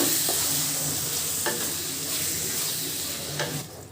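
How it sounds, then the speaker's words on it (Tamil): Squid pieces stirred into a hot pan for Tamil-style squid gravy, with a steady close sizzle and hiss of frying and a few sharp scrapes of the spoon against the pan. "கனவா சேர்த்துட்டு நல்லா இதை கலந்து விடுங்க."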